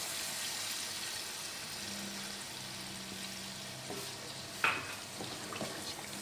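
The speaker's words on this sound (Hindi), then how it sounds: "इसको अच्छे से मिक्स कर लेंगे।" Mutton handi being stirred in a pot after yogurt and green chilies go in, a steady soft sizzle and wet scraping with one sharp clink of the spoon against the metal, no talk.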